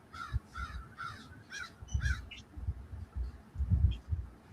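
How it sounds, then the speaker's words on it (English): Crows caw in a quick series of four or five harsh calls, fairly distant, over a low rumbling background with soft thumps. "I heard crows and crickets."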